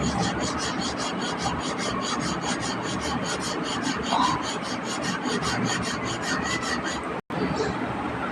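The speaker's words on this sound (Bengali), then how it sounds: "ঠাকুরকে স্নান করিয়ে দেখো এখানে চন্দন বেটে নিচ্ছি।" Sandalwood is rubbed on a stone into paste for worship, giving a steady, rhythmic rasping scrape with quick, even strokes that continue almost without pause before a brief break near the end.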